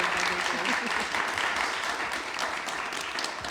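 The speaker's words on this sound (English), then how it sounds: "give them a round of applause, please, for the phenomenal work that they do" Audience at a Global Entrepreneurship Week beauty founders event claps steadily for the founders, a dense, fairly loud wash of applause that holds evenly throughout.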